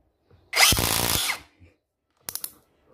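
A Tanzu cordless drill driving a wood screw: one loud, close burst of motor whine under load lasting under a second, then silence, followed by a quick ratcheting clutch chatter of several rapid clicks.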